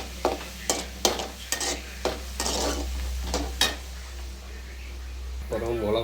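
Onions sautéing in a pan, with a steady low sizzle beneath a string of sharp, regular scrapes and clinks from a utensil stirring against the metal, close by and fairly loud.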